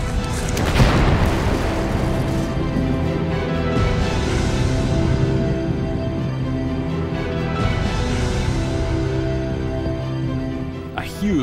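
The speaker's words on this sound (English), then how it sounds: "Noisy eruption." Active volcano erupting noisily, a sustained loud roar and rumble with bursts of booming, steady throughout at close range, as a huge volcanic bomb is flung out.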